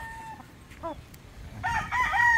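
A rooster crows briefly at close range, a short strained call followed by another rising crow, with faint background noise.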